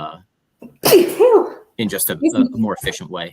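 One loud, sharp sneeze bursts out during a business discussion about the contingent workforce, right after a person finishes speaking, with talk resuming straight after.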